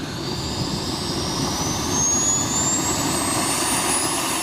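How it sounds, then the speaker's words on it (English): Subsonix JSX-2 light sport jet powered by a PBS TJ100 turbojet engine, a steady loud roar with a rising high whine, continuous and close throughout. "The Subsonix is being powered by the PBS TJ100 turbojet engine."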